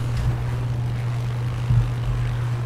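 Steady low propeller drone of an aircraft coming in to land in the video game Far Cry 6, a continuous engine hum with a brief swell near the end and no talking.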